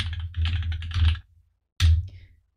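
Keys clatter on a computer keyboard as a short pass insert command is typed, two bursts of close, crisp clicking separated by a brief pause.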